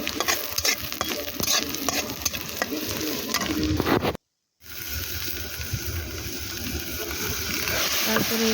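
Spices being fried and stirred on a clay stove while tomato cooks in the pan, with a steady sizzle and scraping strokes. A brief full dropout sits near the middle, and the sizzle resumes slightly louder afterward.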